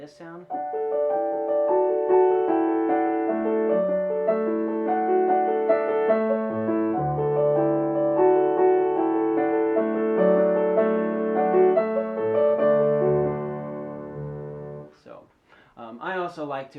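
Solo piano plays an Ode to Joy arrangement, melody and left hand filled out with added inner harmony notes, sustained chords ringing steadily and close for about fifteen seconds before fading, with no talking.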